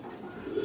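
An original Pakistani pigeon with a thick beak gives a soft, low coo, a short murmuring call heard close and fairly quiet, with no voices over it.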